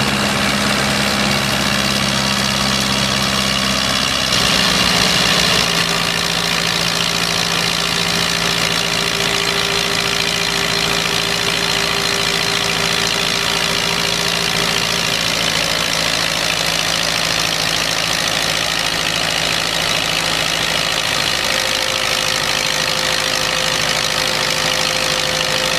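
A gasoline-powered Eagle Model H 1325 tractor engine runs steadily at a farm show, a loud continuous droning idle with a slight shift in pitch partway through, under broad outdoor noise.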